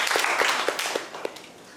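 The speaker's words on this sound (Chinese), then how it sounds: "我们掌声欢迎他" Schoolroom classmates break into brisk applause to welcome a new transfer student, a short burst of close, sharp hand claps fading over under two seconds.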